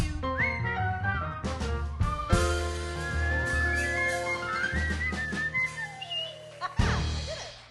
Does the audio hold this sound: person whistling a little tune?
yes